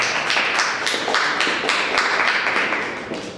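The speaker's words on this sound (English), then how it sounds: "Can you please give a round of applause?" Audience applause at a Startup Grind event in Bloemfontein, a dense, continuous patter of many hands clapping close by, steady throughout and slowly fading toward the end, with no talking.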